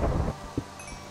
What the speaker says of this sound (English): Alright, the storm's already here.